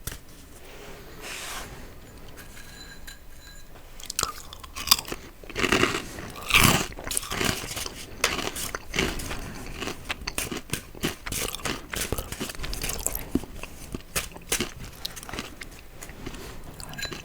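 Crunchy Hawkins Cheezies bitten and chewed up close, a quiet lead-in followed by repeated sharp crunches and chewing bursts in an irregular rhythm, with faint soft shuffling of playing cards alongside.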